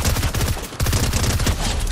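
Rapid automatic gunfire in a shooter video game, a steady, loud stream of closely spaced shots with a brief break partway through.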